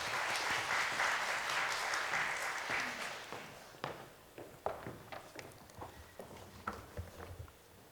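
A church congregation at a special early-morning Holy Week prayer service claps to welcome the pastor, dense applause that thins out into scattered individual claps and a few footsteps.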